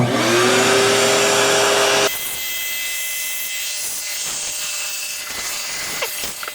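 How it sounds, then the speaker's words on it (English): A vacuum cleaner sucks debris from the airbox of a Honda CRF300L fitted with a 550Performance high-flow snorkel. It starts as a loud whining roar, then drops to a steadier, softer suction hiss with light rattles of debris. "let's get to vacuuming"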